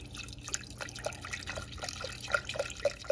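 Beef broth poured from a box into gravy, about two cups, with a soft steady trickle and scattered drips and small splashes over several seconds, close and fairly quiet.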